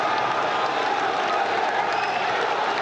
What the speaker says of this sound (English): look at some of the people in the crowd going absolutely crazy.